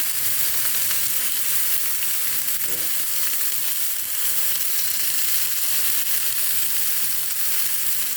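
Fish frying skin-side down in a Teflon pan with little or no oil, a steady, even sizzle and crackle running throughout, close and continuous with no talking.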